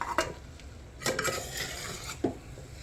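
Cooked rice being stirred together with greens in a pot: a few soft scraping and clinking strokes of a spoon against metal, spaced irregularly, fairly quiet and close with no talking.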